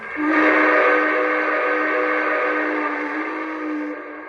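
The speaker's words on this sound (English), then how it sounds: "Number 6 should be the air sound whistle." A single sustained air whistle from a large model steam locomotive, a Lionel B&O EM1 Yellowstone, blows steadily for about four seconds, loud and close, then fades slightly at the end.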